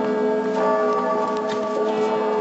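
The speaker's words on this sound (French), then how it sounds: "ils ont entendu les cloches qui n'avaient pas été fondues par l'ennemi sonner à toute volée" Church bells ring at full peal for the armistice on the Argonne battlefield, a dense, loud, continuous wash of overlapping ringing tones with steady strikes and no talking.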